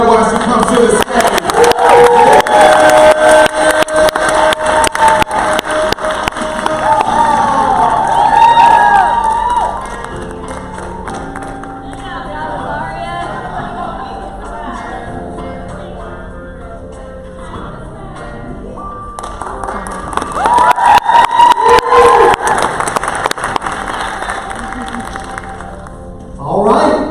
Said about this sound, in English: Go ahead and clap it up while she comes to the stage.